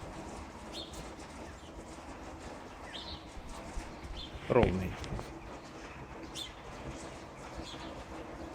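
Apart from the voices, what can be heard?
birds singing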